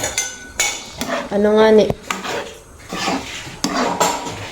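A utensil scrapes and clinks against a cooking pot while sinantol is stirred, in short, close metallic strokes, with brief talk in between.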